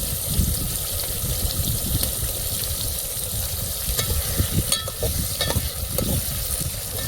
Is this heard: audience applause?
no